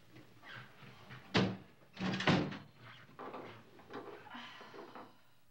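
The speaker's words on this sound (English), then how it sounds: "Should I close the door?" A door swings and shuts with a couple of solid wooden thuds, followed by softer bumps and rustling in a quiet room.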